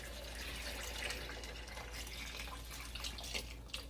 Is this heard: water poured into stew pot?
yes